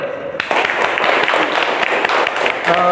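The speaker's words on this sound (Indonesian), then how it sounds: "Ya, aplaus untuk Dio" A class of schoolchildren applauds a classmate named Dio, a burst of steady, dense clapping that starts abruptly and continues close by, with a little chatter mixed in.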